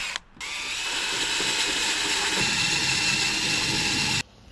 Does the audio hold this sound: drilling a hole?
yes